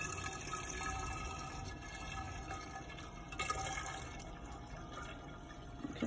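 Water is poured from a container into a lab vessel already partly filled with water while mixing running buffer, a steady faint trickle and splash under constant background hiss, with no speech.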